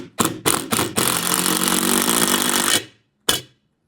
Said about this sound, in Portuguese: E a gente vai colocar agora, parafusar o parafuso aqui, fixando o tronco no vaso.